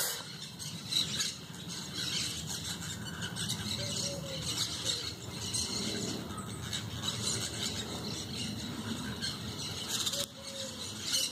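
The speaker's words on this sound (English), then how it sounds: "I think those are parrots and a few pigeons" Parrots and pigeons call from an urban tree in South Los Angeles, with scattered squawks and chirps over a busy outdoor background and no speech.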